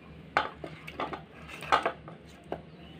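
Ground banana flower paste is scraped up off a grinding stone, giving a handful of sharp scraping clacks spaced unevenly over a few seconds, close and clear with no talk.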